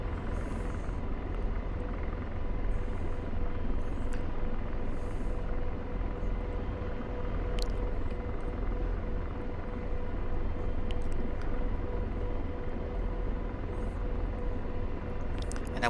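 AH-64 Apache helicopter flying a steer-point route in the DCS combat flight simulator, heard from the cockpit. A steady, loud rotor and turbine drone holds throughout, with faint clicks now and then.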